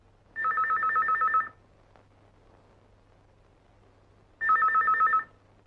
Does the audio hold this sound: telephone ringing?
yes